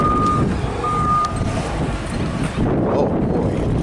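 A forklift's reversing alarm at a building materials yard gives two long beeps at moderate distance, over steady wind noise and a rumbling engine.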